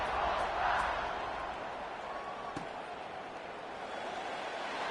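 Stadium crowd in a college football video game, a broad steady roar of many voices that holds at a moderate level throughout, with no clear speech over it.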